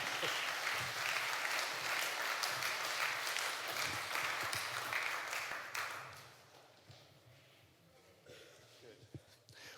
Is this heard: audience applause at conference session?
yes